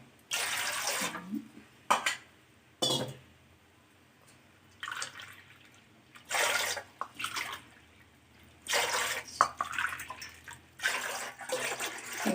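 Water poured from a cup into a cooking pot for making rice vathal, heard as several separate bursts of splashing, each lasting about a second, with quiet gaps between them and no talking.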